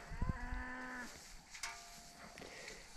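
A cow and her calf, loose from a ranch pasture, moo outdoors; one long, low, drawn-out moo fills the first second, fairly close and clear over steady open-air background noise, with no talking.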